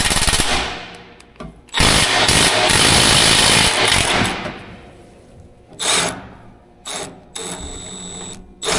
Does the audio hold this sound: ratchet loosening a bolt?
yes